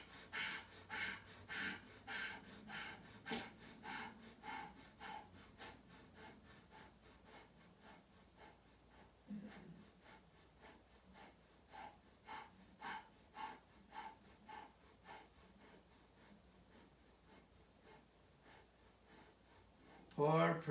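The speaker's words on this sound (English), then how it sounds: "We're going to do the breath of fire." Rapid rhythmic breath of fire from a yoga class, a fast steady run of sharp nasal exhalations pulsing through most of the stretch, faint and close, with a brief pause midway and a louder noise at the end.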